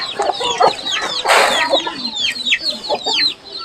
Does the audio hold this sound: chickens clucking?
yes